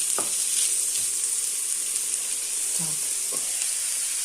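Vegetables for an okra stew fry and sizzle steadily in a pan, a continuous close hiss with a few faint stirring knocks, and no talking.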